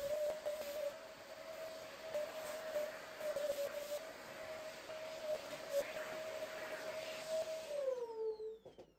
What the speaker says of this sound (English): so I had to vacuum again